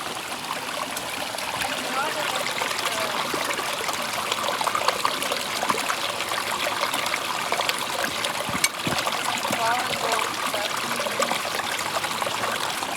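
Water flows steadily through a gold prospecting sluice outdoors, a continuous trickling, splashing wash that stays fairly even and close throughout, with brief soft speech and a single sharp knock near the end.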